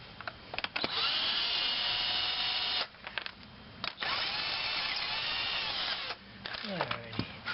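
A power tool takes the lug nuts off the front wheels of a GM car. It makes several loud whirring bursts with short pauses between them and some clatter near the end.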